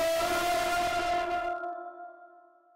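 A loud audio file run through a reverb plugin set fully wet sounds as a sustained, ringing tonal wash that cuts off about halfway and leaves a long reverberant tail fading into silence.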